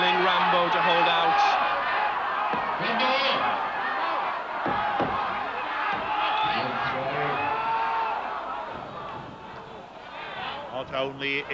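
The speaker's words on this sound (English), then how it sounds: "Again, the crowd willing Rambo to hold out." A wrestling arena crowd roars and cheers steadily throughout a title match, loud and dense, with a commentator talking over the noise.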